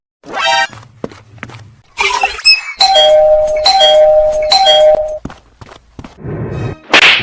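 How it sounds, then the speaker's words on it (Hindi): Two-tone doorbell on a village house chiming several times in a row, loud and close, with thumps and other brief noises around it. "घर की घंटी बजा रहा है"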